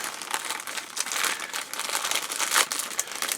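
Resealable plastic bags from a 1:35 scale model kit unboxing crinkle and rustle continuously up close as they are handled and opened, a dense, crackling texture with small louder bursts.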